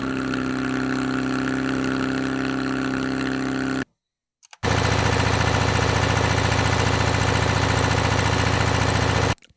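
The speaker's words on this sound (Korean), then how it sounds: "그다음에 가스 엔진" A gas engine fires up after a few seconds of mechanical running and a short silence, then settles into a loud, steady, buzzing idle that holds to the end.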